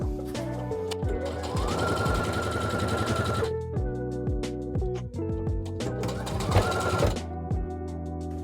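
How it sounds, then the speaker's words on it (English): A Bernina sewing machine stitches fabric for a cushion cover, its needle hammering in a fast steady run that pauses and starts again in several close, loud bursts with no talking. "You just need to guide the fabric along and the machine will do the rest."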